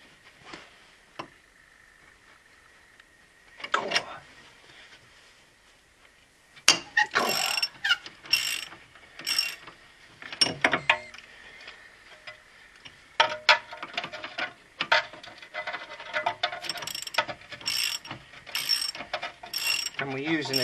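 Sockets on a ratchet work loose a steering joint bolt on a Vauxhall Frontera, giving bursts of rapid clicking and metallic ratcheting, with clanks of tools and parts between the spells of turning, close by and fairly loud.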